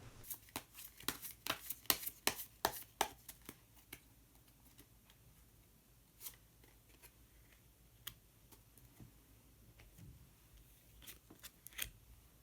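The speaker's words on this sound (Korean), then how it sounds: "마지막으로 색깔로 알아보는 컬러 카드 한 장 더 뽑아보도록 하겠습니다" Tarot-style color cards for a reading are riffled and shuffled in a quick burst of crisp flicks and slaps, then a few isolated soft snaps and taps follow as one card is drawn, all close and quiet.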